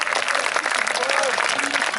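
A crowd applauds at a grand costumed parade of troupes and performers, with continuous clapping mixed under a voice talking and faint tonal sounds in the background.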